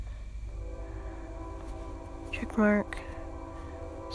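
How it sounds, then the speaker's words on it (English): A train passes in the background with a steady low rumble and a brief tonal horn blast in the middle. A person talks over it. "sorry about the train in the background"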